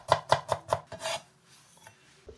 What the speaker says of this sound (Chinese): 生姜切丝